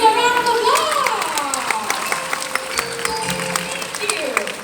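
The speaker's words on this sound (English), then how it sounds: "let's give Evie and James a round of applause." Audience at an amphitheater bird show claps in a brief burst of applause that tapers off, with a presenter's voice and some chatter running over it.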